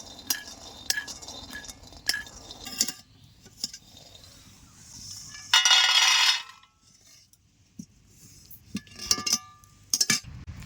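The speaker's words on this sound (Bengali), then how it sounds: "চীনাবাদামটা হালকা আছে ভেজে নিচ্ছি।" Raw peanuts dry-roasting in a pan over low heat for a bael kheer, with scattered clinks and scrapes of stirring and a louder rattling burst midway, close and otherwise quiet.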